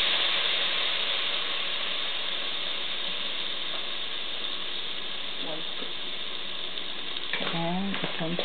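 Kimchi jjigae stew being stirred in a pot, a steady low sizzle and bubbling with faint scraping, a few brief voiced sounds near the end.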